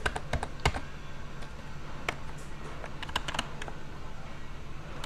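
Keys clatter on a computer keyboard while JavaScript code is typed: irregular bursts of close, quiet clicks over a low steady hum, some keys struck in quick runs and others spaced apart.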